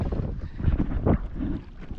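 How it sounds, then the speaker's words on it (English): Wind gusts buffet the microphone out on the ocean during a kayak fishing trip, a rough low rushing that swells and fades in broad waves, with no talk. "I'm sure you can probably hear this, but it's a little bit more windier than"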